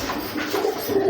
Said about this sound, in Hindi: ये हमारे कबूतर हैं भाई, लक्की कबूतर।